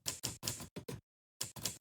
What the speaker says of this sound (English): The noise of typing is not gentle rooftop rain patter